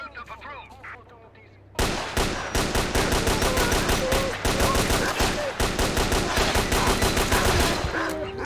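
Rapid video game gunfire bursts in after a quiet start, a loud dense string of repeated shots with brief pauses, continuing to the end without talk.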